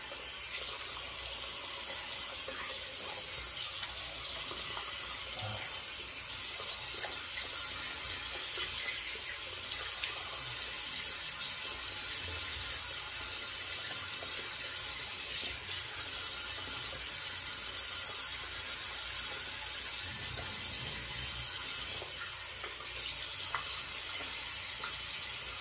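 A tap runs steadily for rinsing, a continuous close hiss and splash of water that holds constant throughout without speech.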